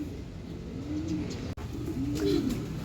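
Pigeons coo softly on a loft roof, a few low, rolling calls repeating at a moderate distance with no talking.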